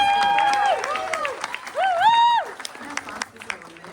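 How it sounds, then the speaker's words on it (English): An audience claps for competitors at a fast-paced dance competition. The scattered clapping sits under a loud, sweeping announcer voice that dominates the foreground. "Round of applause for all of those."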